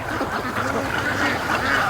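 Young ducklings in a barn quack in a dense, continuous chorus of overlapping calls, steady and fairly close, with no voices over them.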